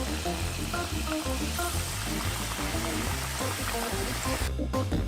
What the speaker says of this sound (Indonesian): sekarang tinggal kita goreng